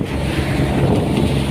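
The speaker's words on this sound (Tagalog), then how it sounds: "Yan medyo malakas-lakas yung alon," Strong sea waves slap around a motorboat crossing the sea off Caramoan while wind buffets the microphone in a loud, continuous roar.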